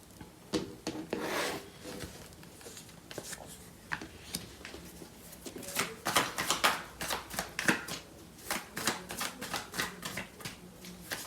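Tarot cards shuffled by hand for a love reading, a steady run of crisp riffling flicks and soft rubbing slides that quicken and grow louder toward the end, close and alone without talk.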